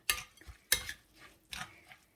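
Soft, rhythmic scraping and swishing of a utensil stirring thick Thai coconut cake batter with green apple and grains in a bowl, repeating every half second or so, close and quiet.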